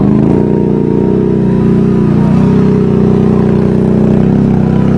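A Can-Am ATV engine labors at steady, loud revs as it climbs a steep hill slowly, the drone holding and shifting slightly in pitch with no talk over it.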